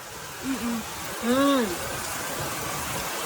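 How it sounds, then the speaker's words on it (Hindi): Heavy rain pours down in a steady, loud hiss that fills the whole clip, while a voice speaks briefly over it. "एकदम से बारिश देखिए गाइस कितनी तेज हो गई है।"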